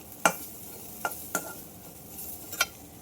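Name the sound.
cooked rela flower curry stirred and scooped from a hot pan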